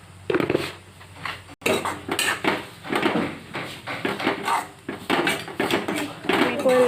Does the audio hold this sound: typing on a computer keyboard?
no